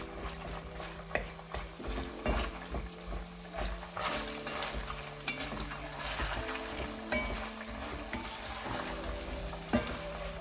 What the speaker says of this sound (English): I'm gonna put the spring garlic, the green one. And I'm gonna give a good mix.